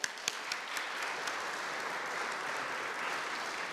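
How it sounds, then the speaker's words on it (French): A church congregation at a Sunday Advent Mass applauds together, a soft, even wash of many hands heard from some distance and lasting several seconds, with no voices over it. "Très bien, applaudissons."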